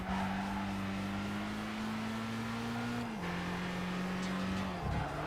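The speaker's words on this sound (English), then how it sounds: "we're driving an MR2" A Toyota MR2 in Gran Turismo 5 holds a steady engine drone, its pitch rising gently, then dropping sharply at a gear shift before settling again, loud and continuous.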